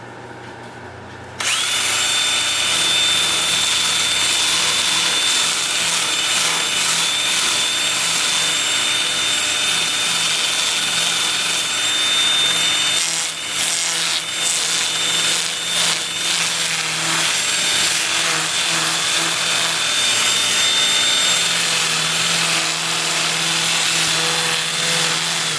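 Abrasive paper at 80 grit rubbed against a spinning wooden piece on a lathe in a workshop, a loud continuous scratchy hiss over the whir of the lathe, with a thin whine and brief shifts in pressure.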